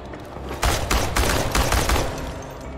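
Rapid bursts of gunfire in the video game Chernobylite crackle in quick succession, several sharp shots clustered together over a couple of seconds, fairly close and loud.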